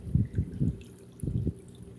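Water gurgles out of a pipe into a homemade bio filter for a duck and turtle pond, in a series of close, low, sloshing pulses with a short pause midway.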